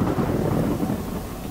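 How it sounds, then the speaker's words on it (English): Very loud, close thunder in the Among the Sleep horror video game, a dense roaring rumble that fills the whole moment with hissing rain-like noise and no pause. "No, just very, very loud thunder."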